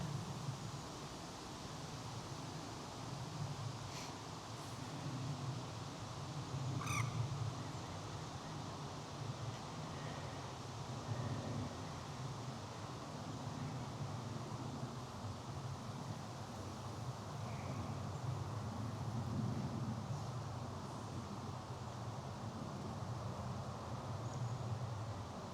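Faint, steady outdoor wind at a fishing spot, a soft broad rush that stays even throughout with a couple of tiny distant ticks.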